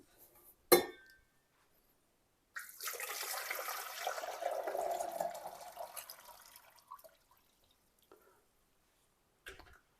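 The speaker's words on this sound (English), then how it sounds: "Pour the water in." A clink, then water poured steadily into a coffee maker for a few seconds, close by, trailing off into quiet with a small knock at the end.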